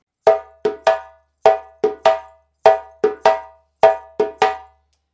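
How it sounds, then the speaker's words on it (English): A djembe plays the second djembe part of the Warabadon rhythm, a repeating three-stroke pattern four times, with crisp ringing hits and short pauses between the groups. "So that's djembe 2."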